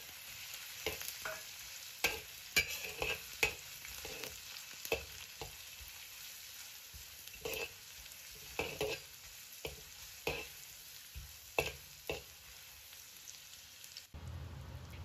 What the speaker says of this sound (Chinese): 大火煸炒出香味。